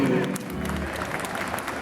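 Applause breaks out at an equestrian side-saddle handling test as a rider named Cécile sets off at a gallop, dense clapping sustained throughout with a voice speaking over it.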